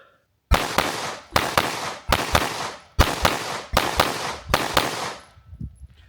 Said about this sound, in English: I think I'm shooting slower.